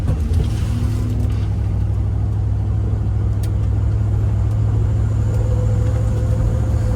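A 1972 Buick Centurion rolls slowly across a lumpy parking lot, its steady low engine rumble and tire noise continuous and close throughout, with no talking.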